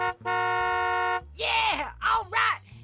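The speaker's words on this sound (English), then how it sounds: "You honk a lot because you love God a lot." A car horn gives one long steady honk, then three shorter bursts in a quick uneven rhythm, loud and close, with talk underneath.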